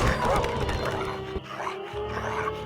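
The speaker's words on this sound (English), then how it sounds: "Oh, yeah, that is a dog." A robot dog barks in a Nancy Drew video game, Ghost Dogs of Moon Lake, with a few sharp barks rising over busy, dense game ambience.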